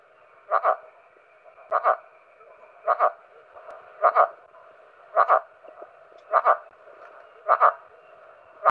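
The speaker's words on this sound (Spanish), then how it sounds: "Es un sonido bastante fuerte, porque es una rana de gran tamaño." A large frog from Chile's Atacama region calls loudly, a regular series of about eight resonant, barking double-pulsed croaks spaced roughly a second apart over a quiet steady background.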